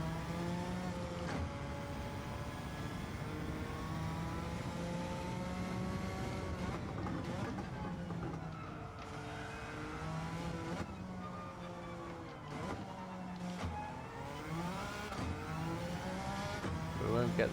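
A Suzuki Escudo Pikes Peak race car in Gran Turismo 7 revs and accelerates continuously, its engine note rising and falling through gear changes at steady loudness with faint background voice.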